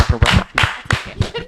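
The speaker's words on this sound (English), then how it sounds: "Clap it up for Cyril." A small audience claps for a guest on a talk show, a few loud, uneven bursts of clapping close by, with some talk mixed in.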